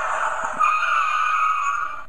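Tire screeching effect from a Stealth Force Optimus Prime Transformers toy, a loud, tinny electronic squeal that holds steady for about one and a half seconds through a small speaker and then stops abruptly.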